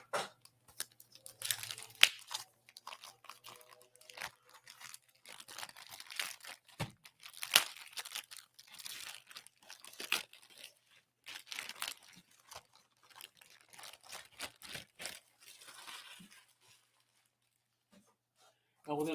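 A large plastic bag around a bagged and boarded comic crinkles and rustles while being unpacked, with irregular close crackles and tearing sounds that come in bursts and stop briefly near the end.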